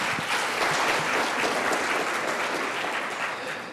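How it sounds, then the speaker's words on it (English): Audience applause fills a lecture hall at a medical research talk on organ donation, steady dense clapping from a seated crowd that holds at full strength throughout before easing slightly at the end. "It's odd to get applause at the beginning."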